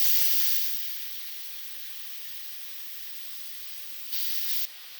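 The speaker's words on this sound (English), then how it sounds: "You can hopefully hear the sizzling sound." Steady close sizzling and hissing of shrimp in a hot frying pan, loudest at first, with a brief louder burst of spitting near the end.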